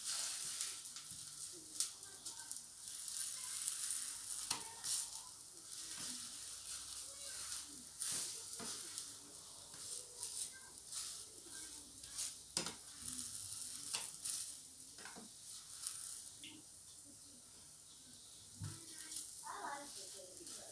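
Softbake dough frying in a pan gives a faint, steady hiss with occasional clicks and scrapes from flipping, heard close but low, with a voice talking over part of it.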